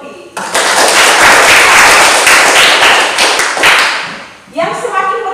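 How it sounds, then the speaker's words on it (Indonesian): A classroom bursts into loud, dense applause for a student named Yongki. The clapping is sustained for about three seconds, then fades and gives way to a voice. "Tepuk tangan untuk Yongki"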